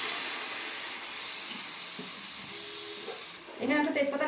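Batter for patishapta pitha made from flour and rice flour meets a hot ghee-greased pan, giving a steady soft sizzle and hiss. A brief louder clatter follows near the end.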